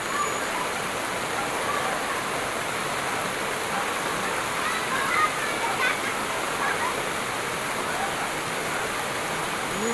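Steady heavy rain hisses in a loud, unbroken wash while children play and bathe in it outdoors, their faint voices and splashes blending into the constant downpour.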